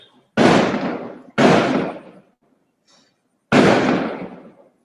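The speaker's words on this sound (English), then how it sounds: "There are a lot of patakas going on, a lot of fireworks, so that's why there's a lot of noise right now." Fireworks and firecrackers going off outdoors: three loud, sharp bangs, each trailing off into a long fading rumble, with a faint pop between the second and third.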